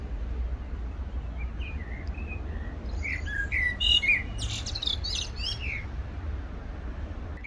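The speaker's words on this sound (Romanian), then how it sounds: "Chiar am găsit în acest moment o mierlă care cântă foarte frumos." A common blackbird sings in a well-kept garden at the Palace of the Parliament in Bucharest, giving a string of varied, fluting phrases at a moderate distance over steady low outdoor rumble.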